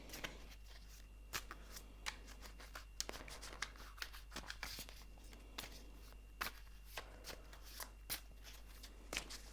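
Tarot cards are shuffled steadily and close up, a soft continuous riffle of card edges with sharper slaps and clicks scattered through it, under a low steady hum and no talk.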